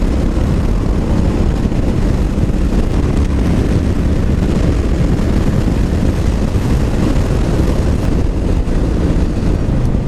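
A Yamaha Stryker motorcycle cruises at freeway speed, its engine drone blending with steady, loud wind rush that fills the whole stretch without a break.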